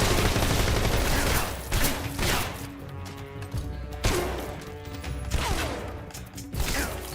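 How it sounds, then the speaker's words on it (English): Loud bursts of gunfire and heavy impacts repeat every second or two in a video-game firefight, with echoing blasts and clattering mechanisms and no talking. "Someone shooting me from behind?"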